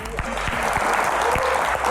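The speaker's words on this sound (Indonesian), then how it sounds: "Tepuk tangan paling meriah" Lively studio audience applause at a Q&A talk show as the Indonesian health minister is welcomed, a steady wash of clapping with a sustained musical tone and some voices underneath.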